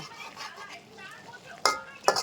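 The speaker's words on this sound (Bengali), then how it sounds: "ঢেঁড়সটা কষিয়ে নিচ্ছি, আর একটু হোক, তারপর মাছ দিয়ে দিব" Okra stir-fried in a pan, a soft steady sizzle with two sharp scraping clanks of a spatula against the pan near the end.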